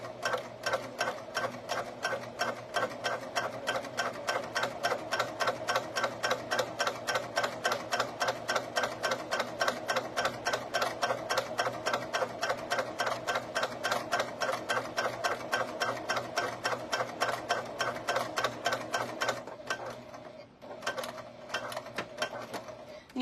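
A sewing machine stitches webbing keychains in a fast, even mechanical patter, close and continuous for about twenty seconds before slowing to a few scattered stitches.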